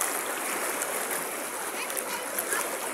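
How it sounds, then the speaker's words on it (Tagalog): River water coming down from the mountains at Sitio Bulho, a continuous broad rushing and splashing of a nearby stream that holds steady throughout. "Makikita natin yung daloy ng tubig. Ganda, sa ilog."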